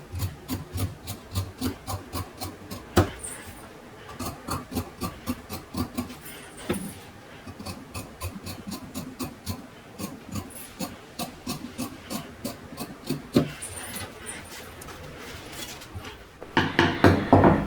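Scissors or a cutting tool rasp rhythmically through fabric while a kurta sewing pattern is cut out, a steady series of short scraping strokes close by, with no voices.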